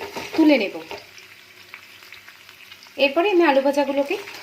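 Potato pieces fry in oil in a kadai, a soft continuous sizzle running underneath two short stretches of someone talking close by.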